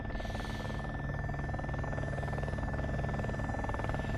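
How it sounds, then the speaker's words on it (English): A helicopter in the video game ARMA 2: Operation Arrowhead hovers steadily nearby, its rotor and turbine giving a continuous droning whine at a fairly low level with no talk over it. "once the helicopter gets here"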